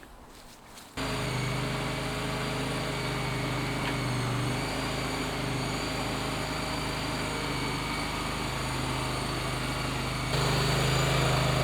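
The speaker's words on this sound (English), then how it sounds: "this is where the Avant is really much better for kind of doing the more local shifting." Steady drone of an Avant compact loader's engine running continuously while shifting timbers for a ten-tonne oak barn frame, close and fairly loud with a slight rise in level near the end, no talk.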